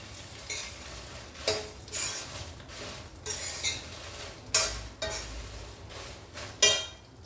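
Moringa leaves, sunflower seeds and flaxseeds dry-roasting in a pan, with a spoon repeatedly stirring and scraping against the metal, giving rhythmic rustling bursts over a faint steady sizzle, close and clear.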